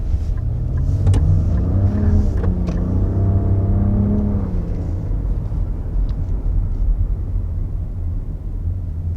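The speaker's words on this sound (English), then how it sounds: "That wasn't much of an acceleration because of this red light, but I can say feels nice and spunky off the line" A 2022 Nissan Rogue with a turbocharged three-cylinder engine pulls away from a red light, its engine note rising in pitch over a steady road and cabin rumble, then easing off as the revs settle.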